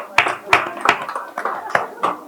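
A few people clap in a room, about half a dozen sharp, uneven claps spread over two seconds, close by and mixed with people talking.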